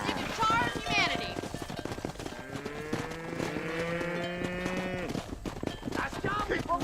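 Cattle in the Red Dead Redemption video game lowing in a long drawn moo while being herded by a rider, with hoof and tack clatter and brief sharp noises around it; voices talk over parts of it.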